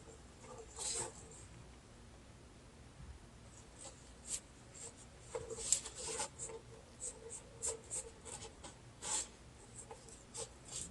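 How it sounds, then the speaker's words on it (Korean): A cooled, previously heated knife cuts through a tough Phalaenopsis orchid stem, giving faint, scattered scratchy clicks and scrapes at an uneven pace, close and quiet with no talking. "뜨거워진 칼을 조금 식힌 다음에 잘라 보도록 하겠습니다"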